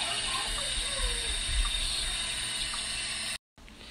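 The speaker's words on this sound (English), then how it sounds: "let's get some hot water in this" Hot water for pho pours steadily into a bowl nearby with a continuous rushing splash, then cuts off abruptly just before the end.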